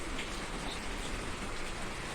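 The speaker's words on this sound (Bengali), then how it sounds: "বৃষ্টি বৃষ্টি ওয়েদার হচ্ছে" Rain falling outside during wet weather, a dense, even hiss of drops on surfaces that continues without a break, fairly soft and unaccompanied.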